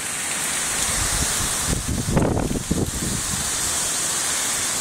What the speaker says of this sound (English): The rains are starting to pick up now.